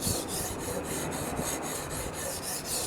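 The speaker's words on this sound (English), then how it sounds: "I'm working on side A of the knife right now, and I'll work on this side until I feel like I've developed a burr." A knife edge is drawn repeatedly across an Anystone sharpener, making close, bright metallic scraping strokes in a quick even rhythm, around a dozen passes with no voices.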